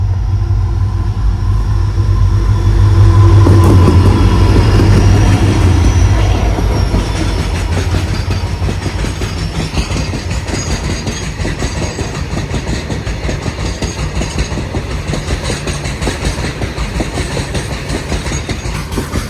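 A train runs through a railway station at Suravali in Goa, passing close with heavy rumble that swells and then settles into continuous wheel clatter and faint squeal over the rails, with no voices.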